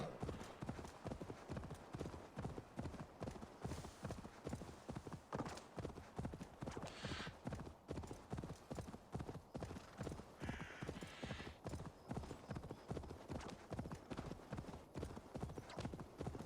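Horse hooves in Assassin's Creed Valhalla, a long, even run of loud clip-clop strides from a mount moving at a steady pace, with faint whinnies and no talk.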